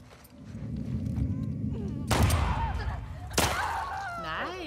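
Two loud, sharp gunshots from The Last of Us Part II ring out about a second apart over a rumbling game backdrop, each a sudden broadband crack with a short tail, while a voice talks faintly underneath.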